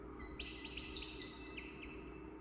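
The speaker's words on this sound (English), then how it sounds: "But it sounds like actual birds. That's a synthesizer." Synthesized bird song from the Alchemy synth, soft high chirps and rapid tweeting trills in short bursts that sound like real birds, set over a faint steady background.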